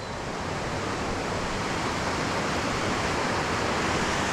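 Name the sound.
raging river water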